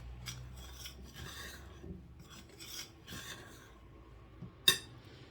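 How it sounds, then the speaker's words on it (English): Puff puff batter being mixed in a bowl, quiet rasping strokes and scrapes repeating irregularly, close by, with one sharp clink near the end. "And I'm gonna mix it."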